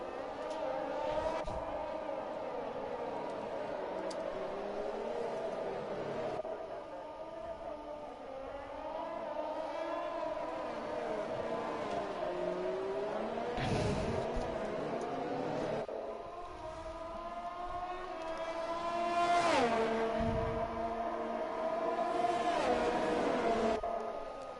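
Race cars in a racing video game pull away on a formation lap around the Azerbaijan street circuit, engines droning and rising in pitch as several cars run together, a continuous layered whine with no talk.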